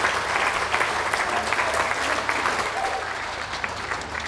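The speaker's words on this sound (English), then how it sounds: "Can we have a huge round of applause for those leaving the ring?" An audience at a dog show ring, during the gundog group judging, gives a sustained round of applause, steady and fairly close, gradually easing toward the end.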